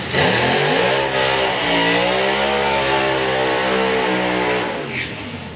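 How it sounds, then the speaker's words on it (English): Matt Peters' Top Fuel drag bike, the Avenger, roars through a burnout at a national finals drag race, a loud sustained high-revving engine howl with shifting pitch that holds steady for several seconds before easing off. "Very good, strong burn out there for Matt Peters with the Avenger"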